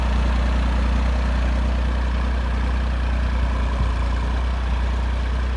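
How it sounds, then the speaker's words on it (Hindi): A heavy tractor engine pulling a tiller drones steadily and loudly under load, a deep continuous rumble with no breaks and no voices. "ट्रैक्टर की आवाज़ से ही पता चल जाता है कि कितने RPM ड्रॉपेज आ रहे हैं"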